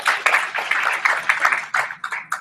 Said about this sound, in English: Let's give Tasha a round of applause.